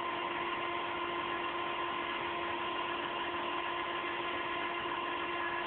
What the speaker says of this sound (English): Now it cuts out at barely over 100 psi. And when it does, it's damn loud.